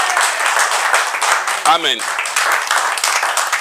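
A church congregation claps during a sermon, a loud wash of applause under which a preacher keeps speaking, with a brief sung or shouted voice rising in the middle.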